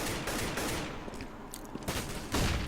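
AK rifle fire in Counter-Strike: Global Offensive sounds in quick bursts of shots over a busy match background, moderately loud, with a heavier burst near the end.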